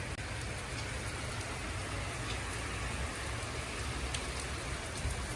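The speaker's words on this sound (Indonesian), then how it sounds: "Cuacanya kembali deras" Heavy rain falling steadily in a settlement area, a dense, even hiss of drops close by with no let-up and no voices.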